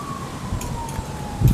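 An emergency vehicle siren wails steadily outside, a thin drawn-out tone heard at moderate distance beneath low rumbling street noise.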